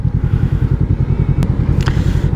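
A cruiser motorcycle's engine idles with a steady, close low-pitched thump and pulsing rhythm, loud and even throughout, with a couple of brief higher clicks over it.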